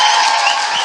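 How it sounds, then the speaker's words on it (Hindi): A congregation at a Hindi-language Christian sermon breaks into dense, steady applause. Many hands clap together at even loudness for just under a second, with no voices over it. "या यीशु के लिए ताली बजाएंगे"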